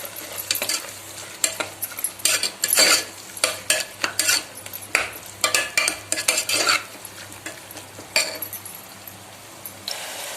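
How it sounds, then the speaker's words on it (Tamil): Mint leaves being sautéed with onions and tomatoes in a pan for chicken biryani: a spoon scrapes and clinks against the metal in uneven bursts over a low, steady sizzle, close and fairly loud, with no talking. "இப்போ புதினா சேர்த்து வதக்கிக்கலாம்."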